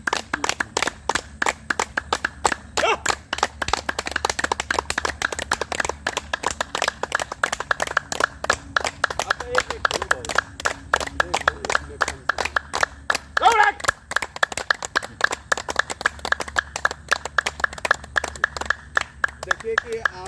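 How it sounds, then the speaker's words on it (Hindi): A group of people at a spiritual gathering claps hands steadily for about twenty seconds, a rapid, sustained patter of many claps with faint voices underneath. "देखिए कि आपने ताली बजाया"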